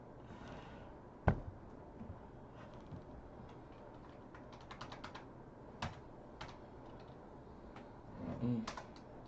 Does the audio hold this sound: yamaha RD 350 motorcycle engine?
no